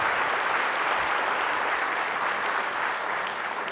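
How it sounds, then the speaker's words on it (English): A community town hall audience gives a thick, steady round of applause that stays loud and even for several seconds, with no talking over it. "I think we'll give them a round of applause"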